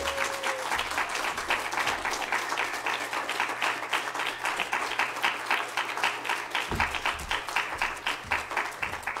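A seated audience at a summer literary fellows' reading applauds, with dense, sustained clapping that holds steady throughout and rises slightly toward the end, the crowd filling the room evenly.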